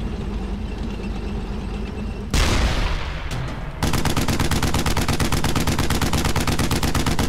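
MP40 submachine gun fire from the World War II shooter Brothers In Arms: Hell's Highway: engine rumble, then a loud burst and crash, followed by a rapid, steady stream of automatic shots.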